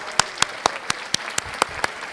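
Clapping rings out at an art school's admitted students open house, nine sharp, evenly spaced claps in a steady rhythm, close and fairly loud, with no talk.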